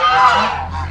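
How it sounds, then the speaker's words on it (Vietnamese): A flock of geese kept at a temple honks in a brief, loud, nasal burst, close by and alone. "Đây là bầy ngỗng tu."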